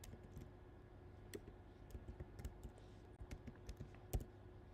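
Keys on a computer keyboard are typed in a quiet room, with a faint, uneven run of soft clicks and short bursts of taps, no talking.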